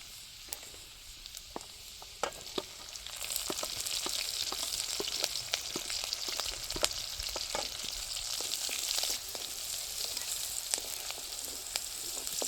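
Mustard seeds, cumin, finely chopped garlic and green chili sizzling in hot oil for upma, a dense continuous frying hiss that swells after a few seconds, peppered with sharp crackling pops close by.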